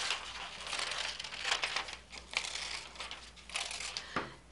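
Paper magazine cutouts crinkle and rustle as they are gathered and handled nearby, with soft irregular crackles and shuffles over a quiet background.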